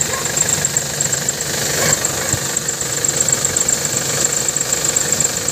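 A Hyundai Starex van engine idles with a constant low rumble and faint rattling knock, running continuously without revving, fairly close.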